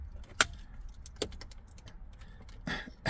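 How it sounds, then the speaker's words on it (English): Keys on a ring jangle in a few sharp bursts as a car key is pulled from the ignition of a 2007 Toyota Tundra, close and crisp in a quiet cab. "Remove the key."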